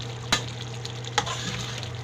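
Ginataang gabi cooking in an oily pan gives a steady low sizzle, with two distinct scraping stirs and a few faint clinks over a constant hum.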